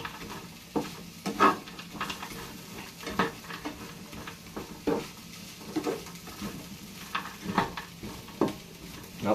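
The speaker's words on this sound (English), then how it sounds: "that's the veg frying in the background" Vegetables for chop suey sizzle steadily in a hot pan, with repeated stirring scrapes and light clanks of utensil against metal at an irregular rhythm.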